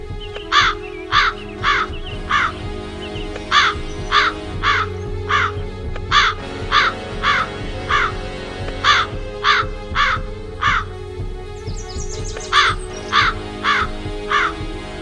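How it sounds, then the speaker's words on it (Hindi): A crow caws repeatedly and loudly nearby in steady bursts of harsh calls, grouped in short runs across the whole stretch over a low background hum, with no talking. "ये पक्षी हमारे समीप कितना निर्भय होकर बैठा है"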